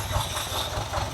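A 1979 Ferrari 308 engine cranks on a first start attempt, a quick rhythmic churning of low pulses over a brief moment, with no talk.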